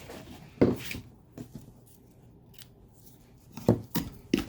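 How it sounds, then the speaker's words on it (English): Scissors snip ribbon during card-making, giving a few sharp, close cuts spaced apart with quiet pauses between them. "then we're going to snip the ribbon"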